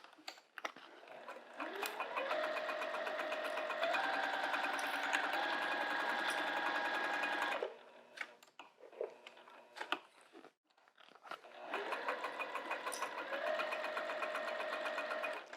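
A sewing machine stitches a zipper pouch in two long, steady close-up runs of whirring with a stretch of quiet handling clicks and pauses between them.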